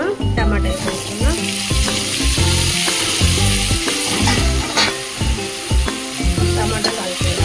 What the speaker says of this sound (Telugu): టమాటా కొంచెం ఉడికే వరకు ఇలా కలుపుతూ ఉండాలి మధ్యలో